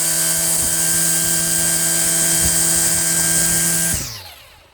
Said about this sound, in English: I'm weed whacking.